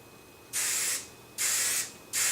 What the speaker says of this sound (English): I just spray a little bit of hairspray.